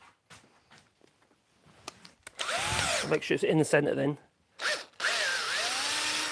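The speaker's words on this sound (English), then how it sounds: "I might even put a little tiny hole with a drill bit." A drill bit bores a small starter hole into wood turning on a lathe, loud and close in two sustained whirring bursts with a short gap, after someone speaks briefly beforehand.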